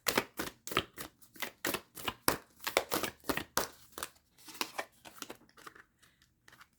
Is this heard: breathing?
no